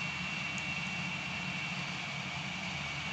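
A MiG-19 jet taxiing on a runway in the flight game Gunship 3 gives a steady, continuous engine drone with a whining high tone, alone and unchanging throughout.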